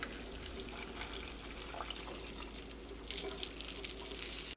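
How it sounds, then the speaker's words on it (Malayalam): Water pours steadily into a blender jar with a continuous splashing hiss, close and moderately loud, with no talking. "ഈ ജാറിൽ വെള്ളം ഒഴിച്ചിട്ട് കുറച്ച് വെള്ളം ഒഴിക്കുക"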